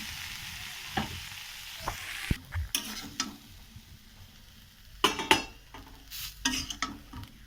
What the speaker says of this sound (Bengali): আমি একটু সরিষার তেল দিয়ে দিলাম, দিয়ে নেড়ে ছেড়ে নামিয়ে নিচ্ছি